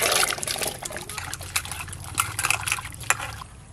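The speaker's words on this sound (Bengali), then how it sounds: "এবার পরিষ্কার করে ধুয়ে ভাতের মধ্যে দিয়ে দেবো" Cut papaya, potato and taro being washed in water, with trickling, dribbling and light splashing close by, a faint voice in the background.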